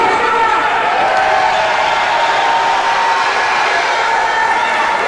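A wrestling crowd at a live show cheering: a steady, dense roar of many voices, loud and unbroken throughout, with no single clear shout standing out.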